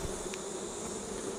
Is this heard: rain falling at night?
no